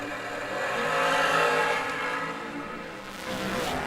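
Drag race cars staging and launching at a racetrack, one an S&W chassis, with a loud, continuous engine roar that builds, eases and surges again, heard from a distance across the track.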